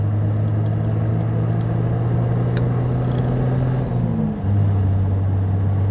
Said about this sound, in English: as soon as you press on the accelerator it starts to move off